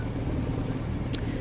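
A Sonex AeroVee Turbo aircraft engine idles at 900 to 1,000 RPM while taxiing, a steady low throbbing drone close by with a brief faint high squeak near the end.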